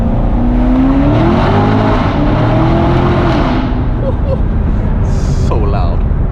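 A 2016 Chevrolet Corvette C7 Stingray roars loudly under acceleration in first gear inside a tunnel, the engine note climbing through revs with a dense echoing rumble, while a person talks over it.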